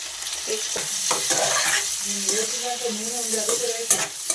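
Chicken with turmeric sizzles in a pan, with a steady frying hiss and repeated scraping stir strokes, close and moderately loud, with no talking.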